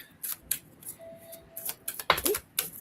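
A deck of tarot cards is shuffled at close range, producing quick papery riffles and soft card slaps in several short bursts, with no talking.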